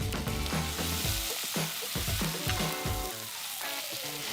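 Onions sizzling as they hit hot pork fat and oil in a pan, a steady close crackling fry with bursts of spitting, heard alone without talk.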